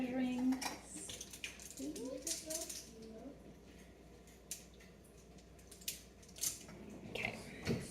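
Measuring spoons grabbed from among kitchen utensils, with metallic clinks and jangles in scattered bursts, fairly quiet and close, with faint voice in the background.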